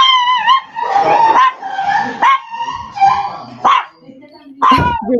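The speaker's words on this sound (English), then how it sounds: "Your dog." Repeated yelps, whines and barks from a dog mixed with howling tones, loud and close, in several bursts with short pauses.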